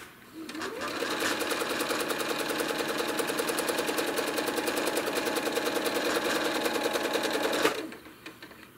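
A sewing machine runs steadily while machine quilting a Koby quilt, its rapid needle stitching a close, even mechanical chatter that starts up, holds for several seconds and then stops.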